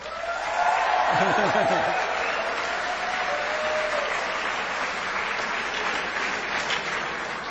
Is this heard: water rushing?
no